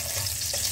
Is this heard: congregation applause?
no